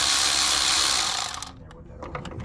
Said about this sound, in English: You can use Milwaukee ratchet.